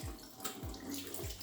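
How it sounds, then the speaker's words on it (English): Tap water runs and splashes over a fresh farm butternut squash being rinsed by hand, a soft close wash with a few brief louder splashes. "I start by rinsing it."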